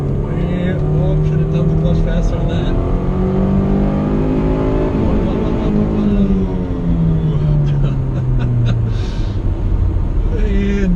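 A 2005 Chevrolet Cobalt accelerates hard with the engine revving loud and close, its pitch sweeping up and dropping through gear changes while people talk excitedly over the engine noise.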